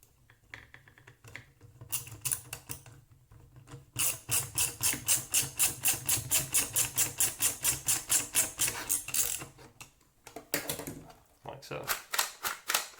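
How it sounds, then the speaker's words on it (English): A 1 5/8 inch screw driven through a hole in an Apex Legends Wingman build, heard as a rapid run of loud, rhythmic ratcheting clicks that starts and stops in bursts, close by and alone. "take 1 5/8 inch screw and screw it through that hole"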